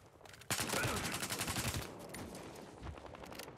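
Rapid automatic gunfire in the Battlefield Hardline multiplayer Conquest mode, a sudden loud burst of fast rattling shots lasting over a second, then trailing off into quieter scattered fire and echoing reports.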